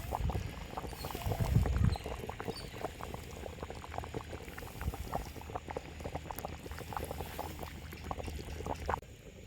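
A pot of fish curry bubbles and simmers steadily, soft popping bursts continuing throughout, with a brief louder stir or clatter near the start.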